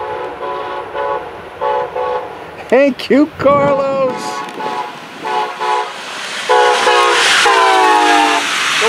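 A train horn blares in stacked chords several times while a train rumbles past nearby, with a short spoken exchange in the middle.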